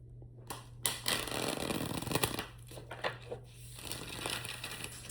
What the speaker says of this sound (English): let me show you how it shuffles.